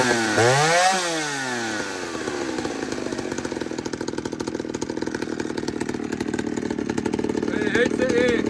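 A ported Stihl 08S chainsaw with a 21-inch bar and stock muffler snarls through a quick rev up and down, then runs on with a steady, buzzing two-stroke rattle up close.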